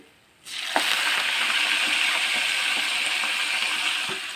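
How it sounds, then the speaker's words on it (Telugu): Freshly washed curry leaves crackle and sizzle loudly after dropping into hot oil, a dense steady frying hiss with a few sharp pops, close and with no voices. "ఆ తర్వాత కడిగి పెట్టుకున్న కరివేపాకు వేసుకుంటున్నాను"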